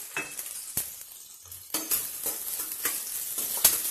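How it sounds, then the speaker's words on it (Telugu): Onions and green chillies frying in hot oil for chicken pepper fry make a light sizzle broken by sharp spoon scrapes and stirs against the pan at irregular intervals, with no voices. "ఆయిల్ వేడెక్కిన తర్వాత ఉల్లిపాయలు మరియు పచ్చిమిరపకాయలని వేసి ఫ్రై చేస్తున్నాం"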